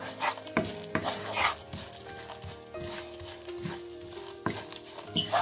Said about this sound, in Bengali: এখন এটা দিয়ে দিচ্ছি কিশমিশ, এগুলোকে ভেজে নিচ্ছি